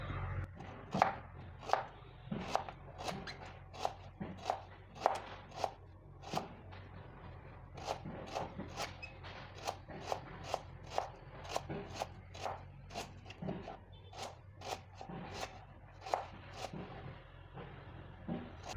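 A kitchen knife cuts through banana stem on a board with sharp, crisp chops. Evenly spaced strikes repeat more than twenty times at a steady, unhurried pace, close and fairly quiet, with no talking.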